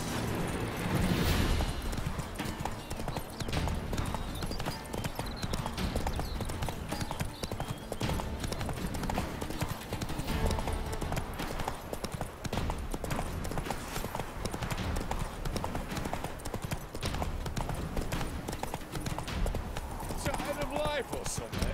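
In The Witcher 3: Wild Hunt, Roach the horse's hooves clip-clop in a steady rhythmic trot that runs throughout, close and clear, with voices speaking over them at times.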